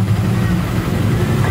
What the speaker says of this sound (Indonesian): Terus suara mesin juga stabil